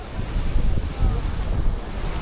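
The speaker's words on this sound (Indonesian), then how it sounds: "Coba lihat, ini adalah air terjunnya." Waterfall on Changbai Mountain, fed from the Tianchi crater lake, giving a steady broadband rush of falling water mixed with wind buffeting the microphone, with no pauses.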